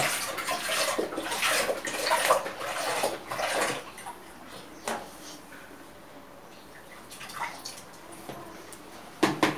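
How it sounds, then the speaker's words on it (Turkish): Cow's milk pours and splashes into a pot in uneven gushes, tapering to quieter trickles, followed by a couple of sharp knocks near the end. "İnek sütümüzü komple boşaltalım"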